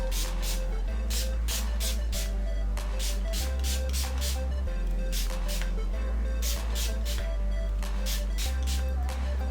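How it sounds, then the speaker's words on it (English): A spray bottle of plain tap water mists onto hair in a long series of quick, hissing squirts, roughly a dozen close bursts over steady background music. "I have this spray bottle in which it is water, normal water, tap water, and I am using this on my hair."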